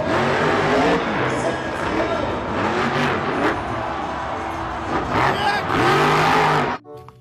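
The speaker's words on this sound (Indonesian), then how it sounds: "ada mobil truk monster." Toy monster truck engine sound effect, a buzzy revving roar with rising and falling pitch sweeps, loud and continuous for about seven seconds before cutting off abruptly.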